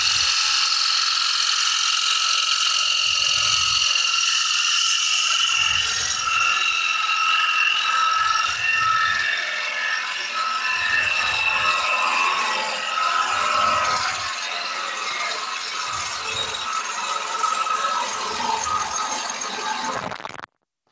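A 5/8 inch bowl gouge cuts into a spinning wooden yarn bowl on a lathe, giving a steady, close, high-pitched scraping hiss with a regular rhythmic low thump from the rotating blank.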